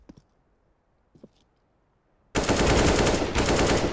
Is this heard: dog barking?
no